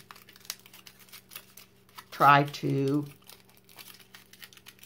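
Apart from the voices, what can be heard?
crumpling tin foil by hand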